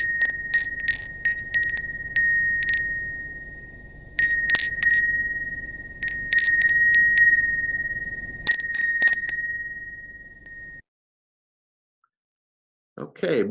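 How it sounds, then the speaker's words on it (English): A Woodstock wind chime rings out in a series of clear, bell-like strikes with long shimmering decay, resembling a temple bell, loud and close, before falling silent near the end. "Sounds just like a temple bell"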